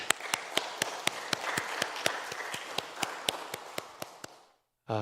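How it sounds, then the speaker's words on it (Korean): A church congregation claps along in a steady rhythmic beat during a Sunday worship service, sharp hand claps over a wash of applause that stops abruptly near the end. "우리 박수 한번 치도록 하십시다."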